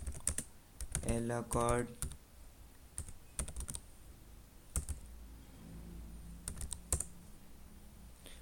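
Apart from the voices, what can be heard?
typing a terminal command on a computer keyboard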